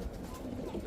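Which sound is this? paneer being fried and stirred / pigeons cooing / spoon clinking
pigeons cooing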